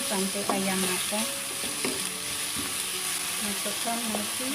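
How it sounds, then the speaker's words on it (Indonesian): Chicken sizzling and frying in a pan, with a steady crackle and occasional scraping of a utensil stirring, close and continuous. "Goreng sampai ayam matang."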